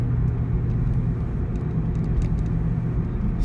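A 2001 Ford Mustang Bullitt heard from inside as it climbs a freeway on-ramp, a steady low engine drone and road rumble holding even and loud throughout with no rise or break.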